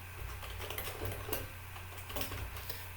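Rapid, fairly quiet clicking of keys being typed, steady and continuous over a low background hum.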